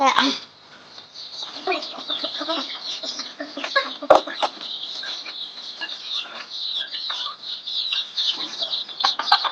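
Many chicks peep continuously in a high, shrill chorus, close by, with occasional louder chirps.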